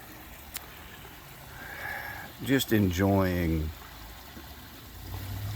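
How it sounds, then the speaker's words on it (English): Water runs down over rocks at a waterfall, a steady, soft rushing that continues in the background while someone speaks briefly over it. "watching the water run down over the rocks, and enjoying the sound of the water as it comes down and bubbles"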